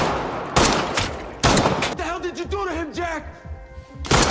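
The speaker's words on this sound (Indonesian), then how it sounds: "hingga aksi baku tembak pun gak bisa dihindarkan" Loud bursts of gunfire crack out in bursts over a film soundtrack, with a stretch of wavering tonal sound between the shots.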